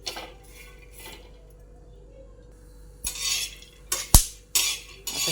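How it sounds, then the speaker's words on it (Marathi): Peanuts dry-roasting and stirred in a pan, with soft scraping at first, then louder rattling clinks and scrapes of the nuts against metal in bursts, close by with no talking. "शेंगदाणे चांगले खमंग भाजून घेऊ हे आता शेंगदाण्याचा आवाज चांगला यायला लागला"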